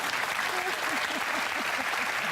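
An audience at a television interview show breaks into dense, steady applause for a gentleman, with brief voice-like tones audible beneath the clapping throughout.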